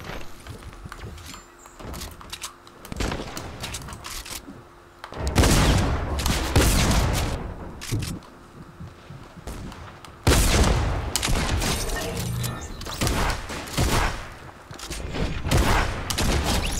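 Rapid bursts of automatic sniper rifle fire in the Fortnite video game at Tilted Towers, loud repeated volleys recurring through the clip amid game noise, with no talking.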